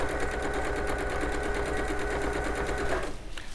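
A sewing machine runs steadily, stitching a fabric sample through its interfaced side with a slightly lengthened stitch; its close, continuous whirring hum holds even throughout and eases off near the end.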